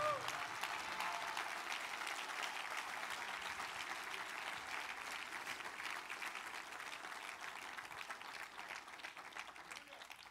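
A church congregation applauds, a long, steady wash of many hands clapping that stays even and fairly subdued for about ten seconds with no break.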